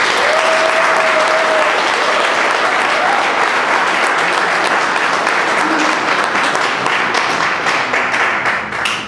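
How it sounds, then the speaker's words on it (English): Sustained audience applause for the candidates at a Calgary Skyview leadership forum debate, a dense, steady roar of many clapping hands filling the whole stretch and tapering slightly at the end. "I want you to give these candidates a nice round of applause for answering the questions."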